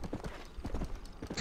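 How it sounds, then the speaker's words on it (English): Mule hooves clip-clop in a quick, steady riding rhythm in the Red Dead Redemption multiplayer game, close and clear, with no talking over them. "Let's all get on our mules and ride."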